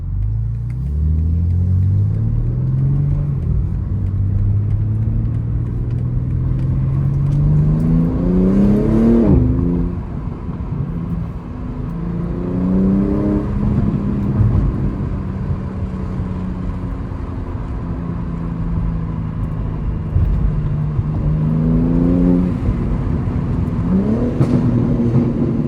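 A BMW G80 M3 cruising through city streets at night, its engine droning loudly and steadily, with repeated rising revs through the gears and brief drops between shifts, no talking.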